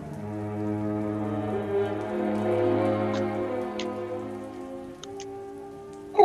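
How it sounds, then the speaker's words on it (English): Rain falling in a radio play effect, a steady patter with scattered drips heard over a sustained low tonal drone that runs throughout. "When I came to, it was raining."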